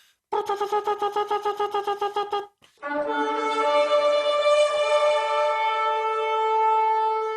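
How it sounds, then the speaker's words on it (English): A rapid series of short staccato shofar ram's horn blasts, a brief pause, then one long steady blast held for several seconds, loud and close. "And what's important about the shofar is the sound that it makes."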